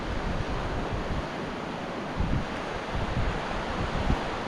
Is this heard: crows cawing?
no